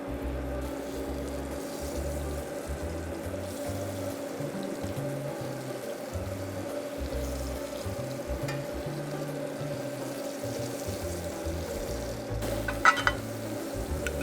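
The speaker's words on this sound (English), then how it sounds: "I usually like to get a nice good crust on that one side, not burn it, but get a nice sear on the one side." Fish sears in a frying pan, a steady close crackle and hiss running evenly throughout, with a brief clink of a utensil near the end.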